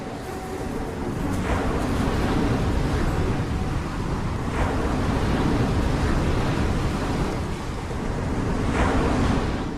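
Waves of the warm Caribbean sea breaking on a shore, a continuous roar of surf swelling and easing in slow surges with some wind, and no voices.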